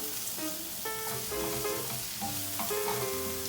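Garlic sizzles in a hot pan as a spoon stirs it, with soft scraping and clinking over a steady frying hiss, close and moderately quiet with a few faint tonal clanks of metal.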